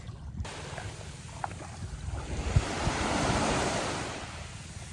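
Ocean surf washing onto a beach in a steady broadband roar, swelling slightly louder midway, with wind across the microphone and no talking.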